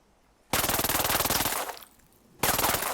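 A Vector SMG fitted with a hipfire attachment fires in Ghost Recon Breakpoint: a fast, loud, rattling burst of rapid shots lasting about a second, a short pause, then another burst starting.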